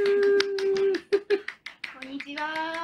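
Applause greets Kita-san, a guest on a live Kyoto travel talk show: a run of quick, close claps over a steady tonal background, then thinning into a few scattered claps.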